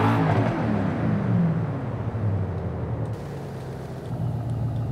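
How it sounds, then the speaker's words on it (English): A 1900-horsepower 2024 Mustang engine in the video game Forza Horizon 5 drones loudly, heard from inside the car, its pitch rising and falling as it revs and shifts, a continuous mechanical whir with no speech. "I know the sound of the car is louder."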